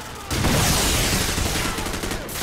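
Dense burst of gunfire and an explosion from the video game Call of Duty 4, loud and continuous for about two seconds after a brief quiet start.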